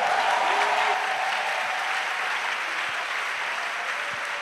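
A church congregation applauding in praise of Jesus Christ, a dense, steady wash of clapping from many hands that holds at even loudness throughout.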